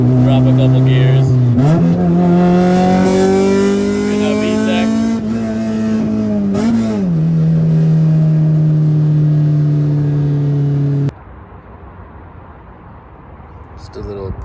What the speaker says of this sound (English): Exhaust is a little loud.